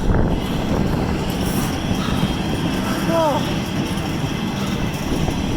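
A freight train rumbles along steadily with a broad rolling roar and a brief high wheel squeal midway; a person riding on it briefly exclaims.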